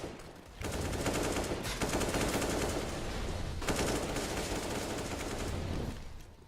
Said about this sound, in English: Much gunfire.